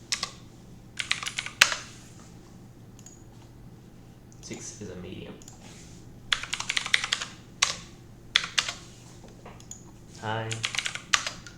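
Clacking of keys on a computer keyboard in short bursts of quick typing, separated by pauses, close and fairly crisp, with a person speaking intermittently between and over the keystrokes.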